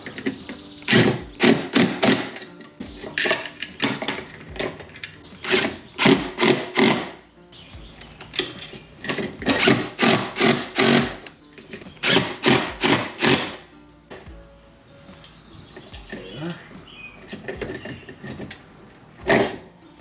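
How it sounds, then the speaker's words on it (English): A power driver spins screws in short repeated bursts while mounting a fold-down boarding ladder on a Tracker Pro Guide V-16 WT boat, loud nearby whirring separated by pauses, with no talk. "I'm just gonna start each screw"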